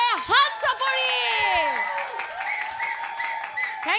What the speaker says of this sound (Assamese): বহুত ধন্যবাদ আকৌ এবাৰ উদীপ্তা আৰু হিমাদ্ৰীৰ বাবে হাত চাপৰি